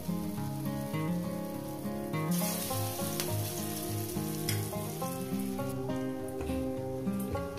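Matar dal fritters (bora) frying in hot oil, a steady dense sizzle and crackle that holds close and even throughout, with a brief brighter burst of spitting partway through and no talking.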